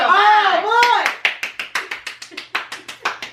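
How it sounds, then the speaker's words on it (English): Quick, even hand claps, roughly a dozen sharp hits close by, follow a short stretch of voice at the start. "Hand clap."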